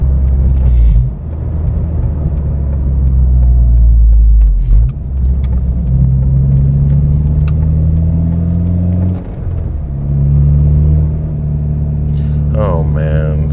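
Honda Prelude engine droning loudly while climbing a hill, revs rising and dropping through downshifts with steady road rumble, someone talking over it.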